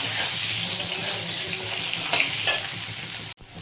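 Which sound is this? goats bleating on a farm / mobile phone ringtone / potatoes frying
potatoes frying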